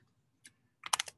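A single soft key click, then a quick burst of several keystrokes on a computer keyboard, close and crisp in a quiet room.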